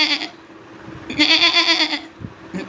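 A man mimics a goat bleating. Two wavering, nasal bleats sound close and clear, the second longer, with a short breathy tail after.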